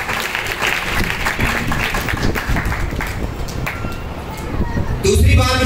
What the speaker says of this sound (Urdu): خدا یسوع مسیح کا شکر کرنے کے لیے ہم زوردار تالیاں بجائیں گے